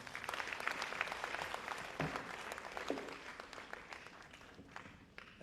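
Audience applause at a resilience campaign conference in Freetown, Sierra Leone, a steady wash of many hands clapping that runs for several seconds at moderate, slightly distant volume and tapers toward the end.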